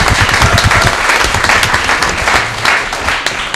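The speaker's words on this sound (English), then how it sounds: "You can applaud, it's all right." Loud, close applause from a crowd at a county commissioners candidates debate, dense clapping that swells and then gradually thins over a few seconds.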